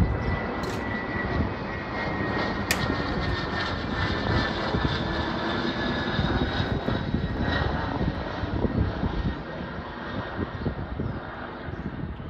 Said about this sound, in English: Alright, that's Southwest Airlines flight.